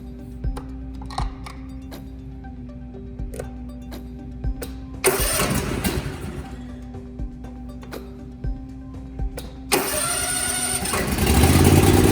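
An Ariens EDGE zero-turn lawn mower engine cranks, catches and roars to life twice, loud and close, settling into a steady running rumble.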